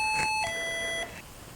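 An Enforcer entry alert system set to chime mode gives a single bright two-tone ding-dong, each tone ringing briefly before fading into quiet room tone.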